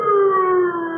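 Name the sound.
sirens howling, radio drama sound effect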